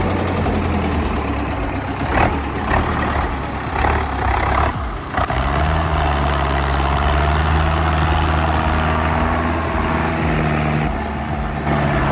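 A Zetor 7245 tractor hauling gravel over rough terrain gives off a steady, loud diesel drone with a low pitch that holds throughout, plus a brief burst of rattling partway through.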